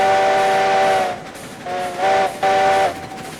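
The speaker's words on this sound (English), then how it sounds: "get this train moving" A steam locomotive whistle in Railroads Online sounds in three loud, sustained blasts with clear pitched tones, separated by brief gaps, over the low hiss and rumble of the running train.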